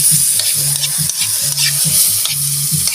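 An egg fries loudly in a pan with a steady sizzle, broken by repeated rhythmic scraping and stirring strokes close to the microphone.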